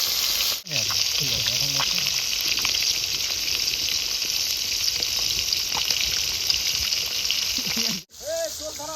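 Koi fish (climbing perch) frying in hot oil at a Sundarbans camp cooking tel-koi: a loud, steady crackling sizzle with bubbling spatters, close up, broken by two brief knocks and faint vocal sounds near the start and end.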